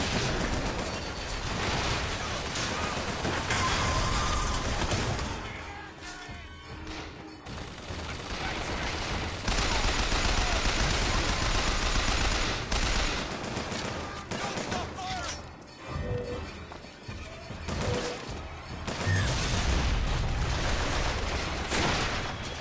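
Rapid turret gunfire in the video game Bioshock Infinite, a dense stream of shots with bursts and explosions over game music and effects, loud and continuous with brief dips.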